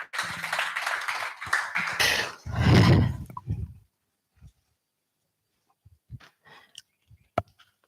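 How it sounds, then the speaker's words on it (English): Audience applause rises to welcome a moderator at a formal panel event, a dense burst of clapping lasting a few seconds that cuts off abruptly, followed by near silence with a few scattered taps. "Please, with a round hand of applause, let's make welcome the moderator for this section, Abigail Brocha"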